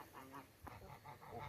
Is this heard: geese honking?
yes